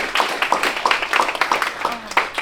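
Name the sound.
round of applause for announcer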